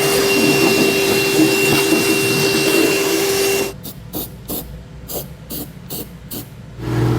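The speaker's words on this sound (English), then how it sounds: "We're gonna grab a vacuum and clean this up" A steady loud vacuum cleaner whooshes for a few seconds while cleaning up on a 2015 Ford F-350 pickup truck, then stops, followed by a series of short sharp spray-paint bursts.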